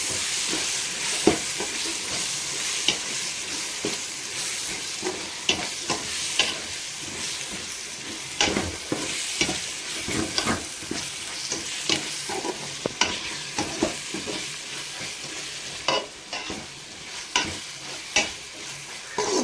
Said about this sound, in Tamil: இஞ்சி பூண்டு போட்டு நல்லா வணக்கிக்கணும்